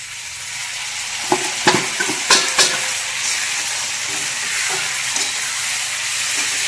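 Finely chopped tomatoes and potatoes sizzle in a pan. A cluster of scraping, tapping stirs comes early, then a steady frying hiss continues with a few lighter stirs.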